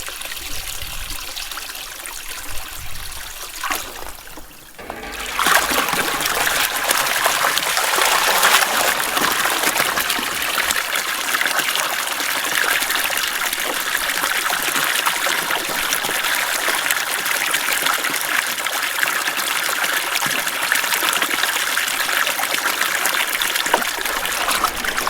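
Water pours steadily into a livestock watering tank on a farm: a constant loud rushing, gushing stream that swells after a brief quieter start and then runs unbroken, with no voices.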